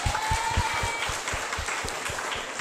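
Audience clapping at an Islamic music and preaching event, a fairly rhythmic run of hand claps at even volume, with a faint tonal sound briefly in the background.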